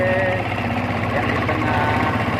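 Motor boat engine droning steadily and loud nearby, a low throbbing hum with no break, as boats travel together toward Tanjung Morongga off Maurongga village waters.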